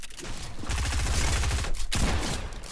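Rapid bursts of video game gunfire, Fortnite or Rainbow Six Siege, dense and loud, filling the whole stretch with a short dip near the end and no talk over it.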